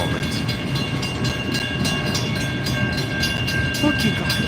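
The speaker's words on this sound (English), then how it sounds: "Wow, this is one long train." Long CN freight train with boxcars rolling past at close range, a steady clattering rumble with faint rhythmic wheel clicks and metallic squeals running throughout the clip.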